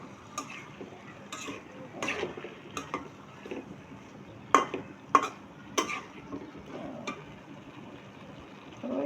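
A spatula scraping and clinking in a pan while potatoes and teasel gourd are stirred for a fish curry, sharp irregular taps and scrapes over a soft sizzle, close and fairly quiet.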